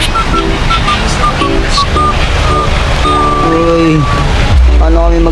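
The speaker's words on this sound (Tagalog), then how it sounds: "Grabe, lakas ng ulan." Heavy outdoor rain pours down in a loud, continuous roaring wash. Tonal music plays over it and voices are faintly present.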